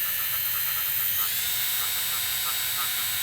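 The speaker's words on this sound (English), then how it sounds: "a fabric shaver. I've tried a variety of them, but I love this one. It's so powerful." An electric fabric shaver removing lint from a sweater gives a steady high-pitched whirring buzz, close and continuous without a break.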